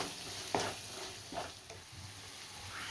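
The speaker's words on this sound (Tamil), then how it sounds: "இப்போ அதை சேர்த்து நல்லா வந்து வதக்கி விட்டுடுவோம்" Tomatoes and onions sautéing in a pan for egg gravy, with a low sizzle under a few distinct scrapes and stirring knocks of a spoon against the pan, and no voices.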